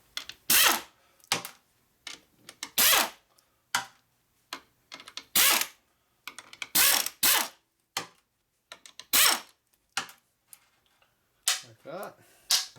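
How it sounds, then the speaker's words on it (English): A hand ratchet loosens the nuts on the clutch of a Harley Sportster 650 single XL during an engine rebuild. Close, crisp bursts of rapid clicking come in short, uneven spurts separated by brief silences. "Now you can pull all the other nuts off."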